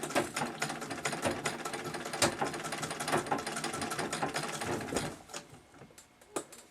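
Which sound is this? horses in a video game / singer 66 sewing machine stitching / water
singer 66 sewing machine stitching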